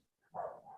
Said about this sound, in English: I'm so sorry if you can hear my dogs barking